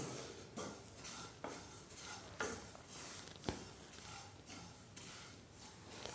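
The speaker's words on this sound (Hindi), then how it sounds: "इसको हम चलाते हुए लगातार चलाते हुए भून लेंगे" Sesame seeds dry-roasting in a pan over a low flame for sesame-jaggery chikki are stirred steadily, giving a soft continuous rustle with repeated scraping strokes and light clinks of the spoon against the pan, close up and without speech.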